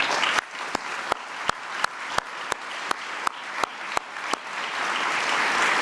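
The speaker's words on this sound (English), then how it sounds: "So, yeah, clap right into that microphone." Applause fills a press briefing room as a steady wash of many hands, broken by a series of sharp, regularly spaced loud claps close to the microphone.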